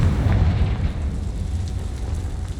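Blast from the Confringo fire spell in Hogwarts Legacy, a deep rumbling boom that rolls on as a sustained low roar for a few seconds, loud and close with no voices.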